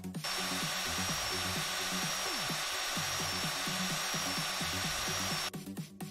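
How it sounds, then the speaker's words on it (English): A hand-cranked tool in a train station renovation video game whirs and rattles steadily with a repeating ratchety rhythm and a high whine, stopping abruptly near the end. "that's operated by hand with no electricity sounds like this."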